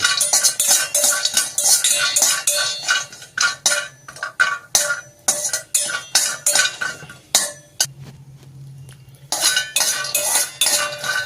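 A metal spoon scrapes and clatters in a pan while brinjal fries, busy irregular strokes close up, with a brief quiet gap near the end before the stirring resumes.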